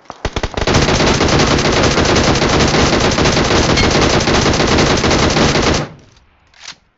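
Sustained automatic gunfire from the battle royale game BGMI, a loud continuous rattling burst lasting nearly six seconds after a few opening shots, then cutting off to near silence with one brief fainter burst near the end.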